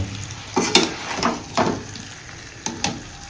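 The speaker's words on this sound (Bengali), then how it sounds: "ভেজে রাখা আলু আর পটলটা এর মধ্যে দিয়ে দিয়েছি, দিয়ে আমরা সামান্য নেড়ে চেড়ে নেবো" A spatula scrapes and turns fried potatoes and pointed gourd in a sizzling pan for Bengali patal chingri, about five short stirring strokes over a soft frying hiss, close by.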